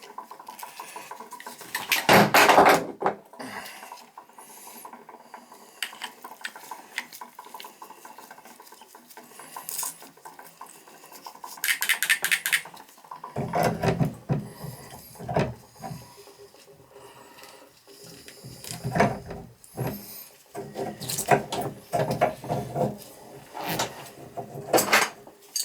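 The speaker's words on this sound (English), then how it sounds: "Here's the spindle. I'll put a new gasket." Metal parts clink and clatter nearby during work on a tub shower valve's spindle gasket, with bursts of handling noise separated by quieter gaps and no speech.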